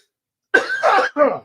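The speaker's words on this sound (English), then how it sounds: "I'm coughing too hard to mute before it happens in some cases" Three quick, raspy coughs close to the microphone, loud and voiced, one right after another with a short break before the last.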